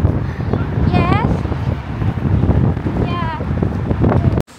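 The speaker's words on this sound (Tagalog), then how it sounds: "Grabe yung hangin. Dito sa bridge." Strong wind roars and buffets the microphone on a bridge in the UK, a steady loud rumble throughout with faint whistling tones, under people talking.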